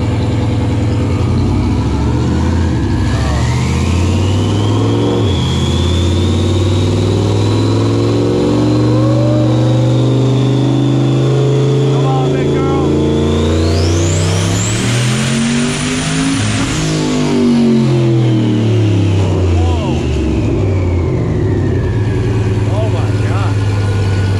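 Turbocharged truck engine in a Corvette on a dynamometer pull, loud and close: it revs steadily upward, the whine climbs to a peak, then falls away, with excited voices over it.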